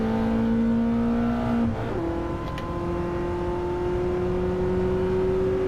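A BMW M3 engine in Gran Turismo 7 drones steadily and climbs in pitch as it accelerates in a top speed run, with a brief dip like a gear change, no talking.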